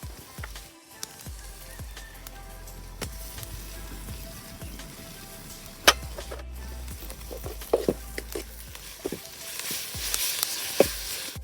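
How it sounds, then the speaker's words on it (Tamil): Chopped onions sizzle in a pan as ginger garlic paste goes in, a close, steady crackle of frying broken by sharp clicks and spatters from stirring, cooking for a snail curry, with no voices. "ஸோ இப்போ வந்து நம்ம இஞ்சி பூண்டு வந்து அரைச்சி வச்சு இதை சேர்த்துக்கலாம்."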